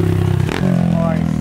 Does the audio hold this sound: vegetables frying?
no